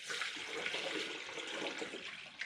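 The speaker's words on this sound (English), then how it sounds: "Now we are gonna start filling this thing up with coolant." Coolant pours into a truck's cooling system during a cooling-system install on an old LUV, a steady close splashing liquid flow that runs without pause.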